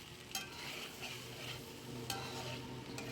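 Cooked rice being stirred into a mixture in a pan for a breakfast snack, a soft steady sizzle with faint scraping and a couple of sharp spoon knocks against the pan, quiet and close.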